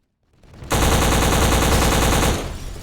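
Sustained automatic gunfire from the shooter video game Black, a loud, dense burst of rapid shots that starts abruptly and rattles on for about a second and a half before cutting off.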